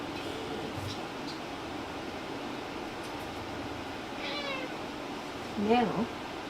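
A cat gives a single short meow near the end, faint against a steady indoor hum of fan or air conditioning, with soft rustling just before it.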